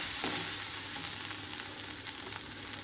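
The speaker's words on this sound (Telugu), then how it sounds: "ఇలాగే మూత తీసి వేయించుకుంటున్నాను" Ivy gourd pieces fry in an uncovered pan, a continuous dense sizzle holding steady and close throughout, with faint stirring noises and no talk.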